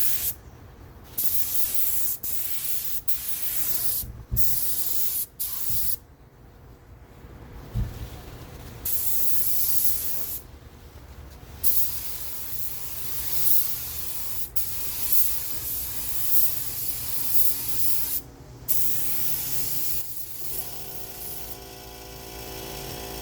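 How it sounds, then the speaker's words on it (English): A spray gun hisses outdoors in long, steady bursts, spraying white base coat paint over black on a Kia Optima bumper, with short pauses between passes, loud and close throughout. "This color white spraying pretty good."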